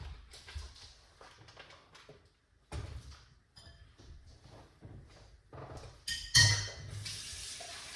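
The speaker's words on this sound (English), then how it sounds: "Put a cup of water in it." Water is poured into a blender jar for a colon cleanse drink with honey, coming as intermittent splashes and trickles of pouring with short gaps, close by. A louder splash and rush of water comes near the end.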